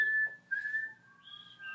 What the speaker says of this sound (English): Can anybody whistle?